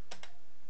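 Two quick, crisp keystrokes on a computer keyboard, close and clear, followed by a short quiet tail.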